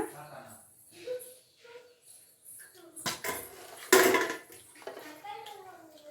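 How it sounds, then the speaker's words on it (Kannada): Metal clanks and scrapes as a pressure cooker lid is handled and lifted after one whistle, short bursts amid quiet kitchen sounds and a person speaking. "ಎತ್ತಿ ಕುಕ್ಕರ್ ಮುಚ್ಚಳ ಓಪನ್ ಮಾಡೋಣ"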